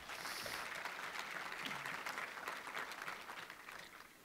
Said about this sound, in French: Donc, je pense que ça mérite une main d'applaudissement.